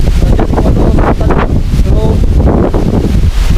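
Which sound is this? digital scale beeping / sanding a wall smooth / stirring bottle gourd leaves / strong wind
strong wind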